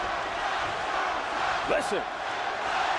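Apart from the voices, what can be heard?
boxing arena crowd cheering and shouting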